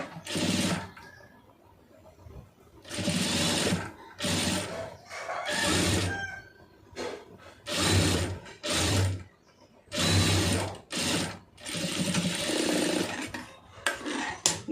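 A sewing machine stitches the side seam of a blouse in repeated close bursts of motor whir, stopping and starting about eight times with short pauses between runs.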